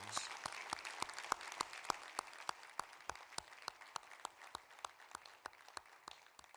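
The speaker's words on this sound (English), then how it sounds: "to give their family and friends and all their supporters a round of applause" A graduation audience at a Victoria University ceremony applauds family and friends, the clapping fairly distant and thinning out until a few individual hands keep a steady, spaced beat.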